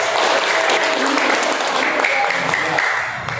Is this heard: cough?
no